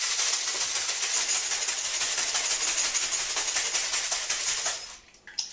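A lidded glass jar of apple cider vinegar coleslaw dressing is shaken hard for about five seconds, a steady rapid sloshing and rattling close by that stops abruptly, with no talk.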